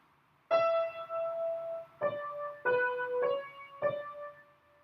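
Piano playing a nota cambiata figure, five clear sustained notes struck one after another, the first held longest and the rest in a steady stepwise sequence, with nothing else heard.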